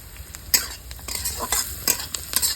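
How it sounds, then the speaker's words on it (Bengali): Chopped onions with dried red chillies and whole cumin frying in hot oil, a continuous sizzle broken by repeated scraping and clinking stirring strokes at close range. "দুটো শুকনো লঙ্কা গোটা জিরে কেটে রাখা পেঁয়াজ দিয়ে দেবো পেঁয়াজটা লাল লাল হবে"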